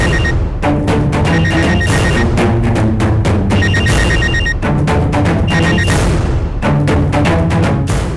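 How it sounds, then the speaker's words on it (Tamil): A telephone rings loudly and continuously, with a dense, repeating electronic ringtone that pulses in bursts throughout, no talking. "எதுக்குடா எனக்கு ஃபோன் அடிக்கிற?"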